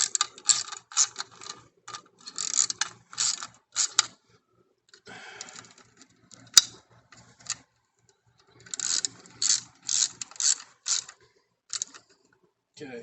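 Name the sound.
ratchet wrench clicking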